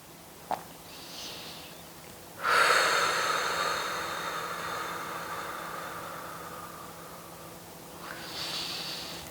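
A deep breath during a seated yoga twist: a soft sniff, then one long loud exhale that fades out slowly, and a faint breath near the end over a quiet hiss.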